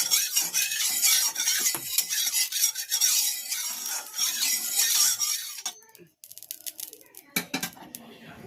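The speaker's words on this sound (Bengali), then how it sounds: "দেখুন, তেলটা আমি জাস্ট কড়াতে লাগিয়ে দিচ্ছি।" A little oil is spread around a hot kadai: close, rough scraping and rubbing strokes for several seconds, then a quieter stretch broken by a few brief metallic clinks.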